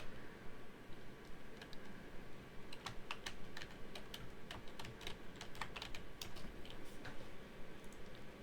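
Slow ASMR-style typing on a computer keyboard, with soft distinct key clicks spaced unevenly over a steady background hiss, close to the microphone and without speech.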